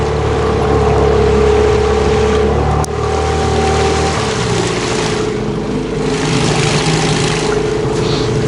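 A motor vehicle engine runs loudly nearby with a steady low drone, then drops in pitch after a sharp knock and keeps rumbling with shifting tones, as if revving and changing load.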